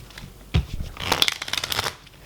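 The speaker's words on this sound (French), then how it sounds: "Tiens, Idriss, est-ce que tu peux mélanger tes cartes en même temps que moi?" A deck of playing cards is shuffled up close during a magic trick, a quick fluttering riffle of crisp card snaps lasting under two seconds, with no talking.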